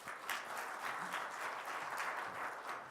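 Church congregation at a revival meeting gives a steady round of applause to welcome a guest speaker, many hands clapping in a continuous, even, fairly faint wash heard from a distance.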